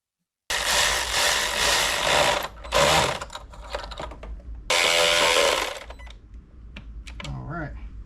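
A ratchet tightens bolts on a 2009 Dodge Charger R/T with 185,000 miles during a tune-up. Two close, rapid bursts of clicking are followed by fainter clanks and handling noises.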